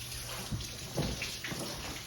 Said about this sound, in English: now it's time to bring the potatoes to the sink and put some water on them